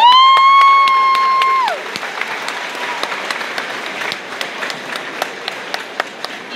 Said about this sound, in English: Do you guys want to cheer for me?